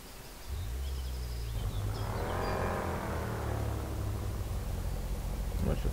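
A BMW X5 M engine in the Spin Tires game cranks and catches, then settles into a steady, low rumbling idle that carries on with a brief rise in revs partway through, heard alone.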